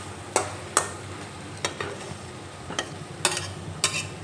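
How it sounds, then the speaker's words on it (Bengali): Potatoes and spices stir-fried together in a pan give a faint sizzle under a handful of sharp spatula scrapes and taps against the pan, spaced irregularly over a few seconds. "আমি আলু আর মশলা একসঙ্গে খুব ভালোভাবে কষিয়ে নিয়েছি"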